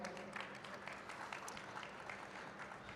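Steady applause from a conference audience at an AI panel, a dense patter of clapping held at a fairly soft level throughout.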